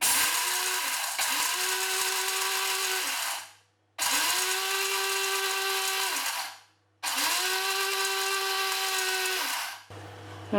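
A small Meesho electric mini mixie grinds in three loud, near bursts of high whining motor, each a few seconds long and broken by short silences as the button is released.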